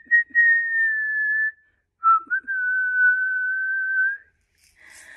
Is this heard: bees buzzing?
no